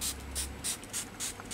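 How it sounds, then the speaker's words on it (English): Short bursts from a spray can coat a mixed media butterfly plaque, about five quick hissing puffs in an even rhythm, close and clear with no talking. "I'm just gonna spray a little bit more"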